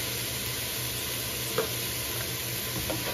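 Turkey sopas stirred in a pot over the stove, a steady simmering hiss with a couple of faint utensil scrapes, close and even throughout, with no voices.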